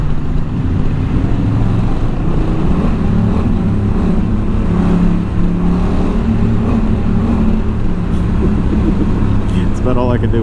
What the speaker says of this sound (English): Give it a lower gear and rev it a bit.